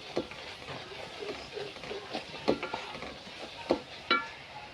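Spices fry with coriander powder in a pan for a chicken roast, giving a soft low sizzle broken by a few distinct stirring scrapes and clinks, close and quiet with no talking.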